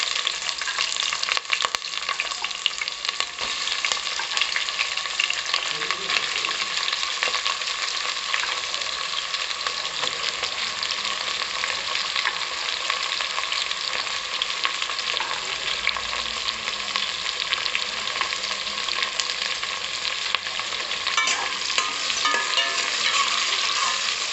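Sliced onions fry in oil in a triply biryani pot, a constant, even crackling sizzle that holds steady from start to end with faint stirring.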